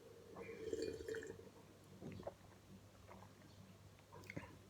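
Red wine, a 2010 Catalan Pinot Noir and Merlot blend, being sipped: a soft, faint slurp of liquid drawn over the lips, followed by a few quiet wet mouth sounds in an otherwise hushed room.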